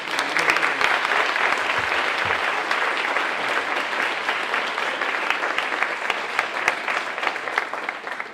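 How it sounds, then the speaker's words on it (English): A warm round of applause from a seated audience, dense and steady for several seconds at even loudness, with no voices over it. "Let's give him a warm round of applause."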